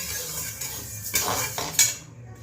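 Moong dal lightly roasting in a pan, with metal utensil scraping and clinking against the pan in a few sharper bursts over a steady low background, no voices.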